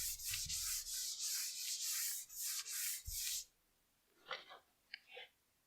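Chalk is rubbed off a classroom board to erase it, with a run of rapid rhythmic scrubbing strokes close up, then a pause and two short wiping swipes.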